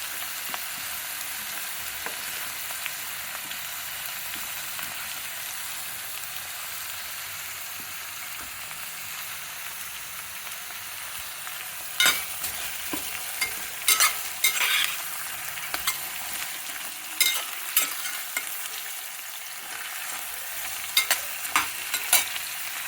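Bottle gourd pieces sizzle steadily in a hot pan, a constant bright hiss, with a spoon scraping and stirring through them in scattered clicks and knocks during the second half.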